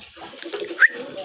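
A pigeon, one of a group offered for sale, lets out a brief soft coo amid faint background chatter and rustle, close but quiet.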